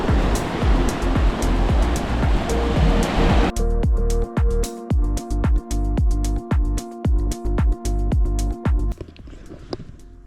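Sea surf washes onto the shore as a loud, continuous roar, later joined by a rhythmic pulsing tonal sound over the steady rush.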